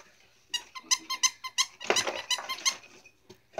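A squeaky hippo dog toy gives a quick run of sharp, rubbery squeaks in an irregular rhythm, close and fairly loud, with a dog's faint snuffling or movement underneath.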